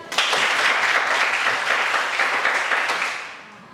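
A classroom of students claps together in a dense, steady burst of applause that holds for about three seconds before tapering off.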